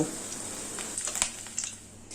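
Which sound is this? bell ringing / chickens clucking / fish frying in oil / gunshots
fish frying in oil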